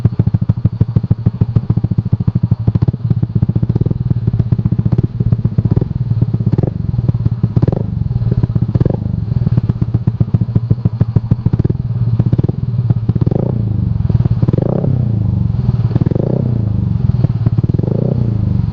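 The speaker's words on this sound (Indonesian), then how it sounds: "Ini suara idle-nya kayak gini nih." A Yamaha NMAX scooter with an aftermarket R9 exhaust idles close by for the whole stretch, a steady low, bassy exhaust putter with faint clattering pulses and no talking.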